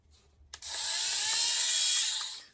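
A small electric fabric shaver runs over a pilly Prana zip-up sweater jacket, starting with a click and giving a steady, close, high whirring buzz for about two seconds before cutting off.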